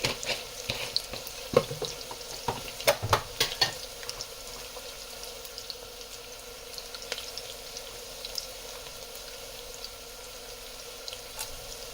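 Whole garam masala frying in oil with onions over a medium flame: a burst of stirring clatter at the start settles into a soft, steady sizzle, with no talking.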